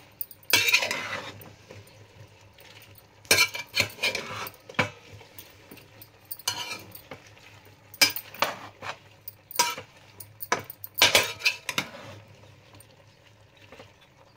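A spoon stirs drumstick pieces and brinjal (eggplant) pieces in a pot, giving scraping, clattering bursts of metal-on-pot contact in irregular clusters with quiet gaps between, close and fairly soft, without talk.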